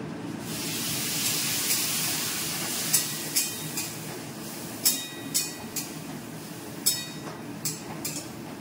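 Water poured into a pan of vegetables frying with turmeric and chili powder gives a loud, steady steaming hiss, joined from about three seconds on by a series of sharp spitting pops, with no talking.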